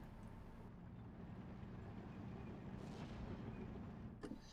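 Distant artillery rumbles faintly through a WWII tank video game, a low continuous boom-laden drone with a sharper crack near the end, quiet and far off with no talk.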